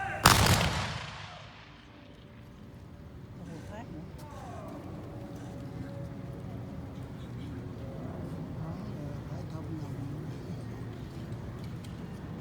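A single sharp, loud blast from a historical black-powder musket firing demonstration, with the crack fading into a rumbling echo and then a murmur of crowd noise and distant voices.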